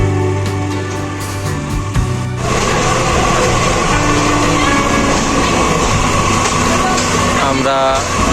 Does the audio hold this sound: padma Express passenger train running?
yes